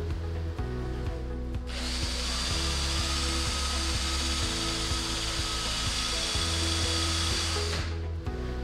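Drill bit being sharpened against a grinding wheel, a steady whirring motor hum with an abrasive hiss that swells as the bit is pressed in, continuous and close.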